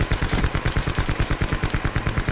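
Automatic gunfire in the video game Call of Duty: Black Ops 4, a rapid, loud, continuous burst of evenly spaced shots, around ten per second, with no talking.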